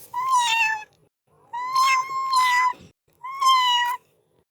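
A cat gives three long, loud meows close up, each drawn out and wavering, separated by brief silences.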